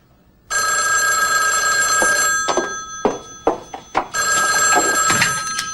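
A telephone bell rings in long electronic bursts, two sustained rings separated by a pause with a few sharp clicks and knocks, fairly close and clear.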